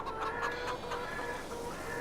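Chickens cluck steadily in the video game Farming Simulator 22, several soft, overlapping calls repeating over a quiet farmyard background with no talk.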